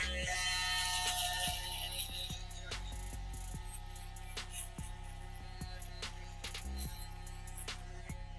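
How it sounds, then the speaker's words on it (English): A BaByLiss electric foil shaver runs close by with a steady buzzing hum and scattered light clicks as it passes over stubble, with no talking. "I'm gonna grab my foil shaver, turn it on."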